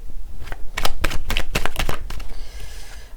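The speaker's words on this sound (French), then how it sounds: "Je vais remettre une carte là-dessus." Playing cards slapped down one after another onto a pile in a tarot-style reading, a quick run of crisp, close flicks and taps with no voice over them.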